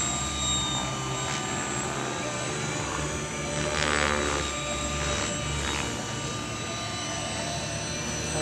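A Mikado 600 radio-controlled helicopter flies at an outdoor heli fun-fly event, giving a steady loud rotor and motor whine that swells briefly around the middle, with no clear talk.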